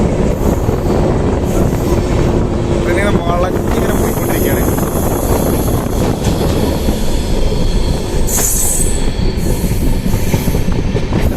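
A moving Mysore–Varanasi train, heard near its front, rumbles and clatters loudly and steadily, with brief high metallic wheel squeals and a faint voice in the background.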